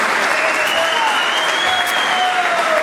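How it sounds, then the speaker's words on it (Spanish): Loud applause greets Sebastián Brown, a new player presented with the Tiro Federal Argentino B football squad, with steady crowd clapping carrying on without a break. "aplausos para él"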